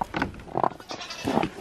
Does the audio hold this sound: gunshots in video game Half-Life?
no